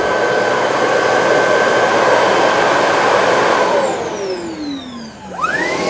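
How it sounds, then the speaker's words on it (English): A Shark PowerDetect Clean & Empty cordless vacuum (IP3251) on its auto-emptying base station roars with a steady, loud suction whine, then winds down in a falling pitch sweep before a brief restart near the end. "here's where the vacuum kicks on, and then the base station kicks on again, and now it's done"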